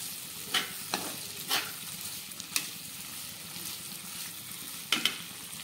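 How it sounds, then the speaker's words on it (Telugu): Chicken pieces, fried ahead of time, sizzle and crackle steadily in a pan with tomatoes, with a few sharper stirring scrapes and pops standing out against the constant frying hiss. "ముందుగానే ఫ్రై చేసి పెట్టుకున్న చికెన్ పీసెస్ని అయితే వేసుకోవాలి. వేసుకొని ఒక్క 2 మినిట్స్ బాగా ఫ్రై చేసుకోవాలి"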